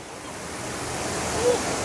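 A waterfall in Meghalaya gives off a soft, steady rushing wash, heard from a distance and fairly faint, with no one speaking.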